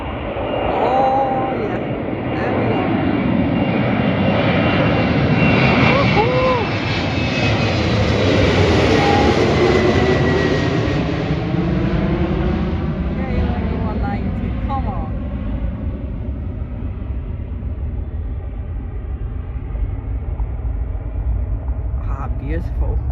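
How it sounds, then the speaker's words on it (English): An airliner departing from Leeds Bradford Airport, its engines roaring loudly as it passes and climbs away, the sound sweeping in pitch and slowly fading into the distance. "we've got our first departure today"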